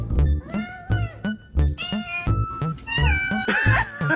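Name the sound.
cat meowing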